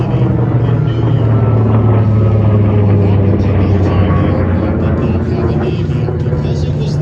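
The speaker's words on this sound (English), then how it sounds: "the very first Grumman Avenger aircraft, the airplane that was flying directly overhead" A Grumman TBM-3 Avenger, a World War II propeller warplane, passes overhead at an airshow, a loud, steady engine drone with a low rumble that holds throughout, with a voice speaking over it.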